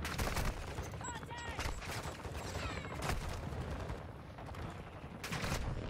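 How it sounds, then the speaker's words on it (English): Rapid automatic gunfire crackles through a Call of Duty match, bursts overlapping steadily for several seconds at moderate loudness, with faint background game noise and no clear speech. "No, they're shooting"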